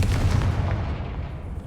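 A Confringo fire spell detonates in Hogwarts Legacy with a heavy booming blast right at the start, then its rumble decays over about a second and a half.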